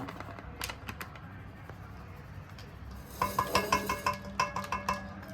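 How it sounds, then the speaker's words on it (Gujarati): Maida flour dough mixed by hand for khasta puri, with soft squishing and kneading under faint background noise, then a run of quick, crisp clicking taps and scrapes, like fingers working oily dough in a metal bowl. "મેંદાનો લોટ લીધો છે એને પછી આમ સાણી નાખવાનો સાળી નાખવાનો"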